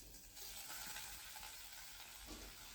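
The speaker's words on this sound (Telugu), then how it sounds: "ఆయిల్ వేసుకొని అందులో మటన్ ముక్కలు వేసుకుంటున్నాను." Mutton pieces fry in oil inside a pressure cooker, giving a steady, dense sizzle that rises after a brief quieter start and holds fairly close at moderate loudness, with no voices.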